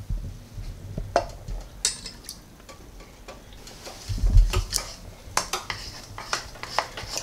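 A spoon stirs a cheesecake crust mixture with melted butter and cinnamon in a bowl, producing close irregular scraping and clinking taps against the bowl, busier toward the end.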